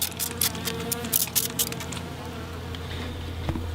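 Honey bees buzz around a nuc hive during installation into a new hive, a steady close insect drone with brief louder passes and a few light knocks, and no talking.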